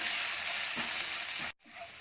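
Spices and red chili powder sizzle loudly as they fry in hot oil for an aloo samosa potato filling, a steady close sizzle that cuts out abruptly near the end and then resumes more quietly.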